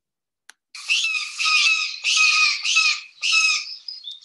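Brown jays calling in Costa Rica, a series of five loud, harsh squawks in quick succession after a brief click, each raspy call close and clear.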